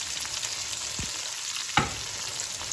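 Chicken and pea curry cooking in a pan on low heat, a soft continuous sizzle with a couple of brief scraping stir sounds, close and quiet, no voices.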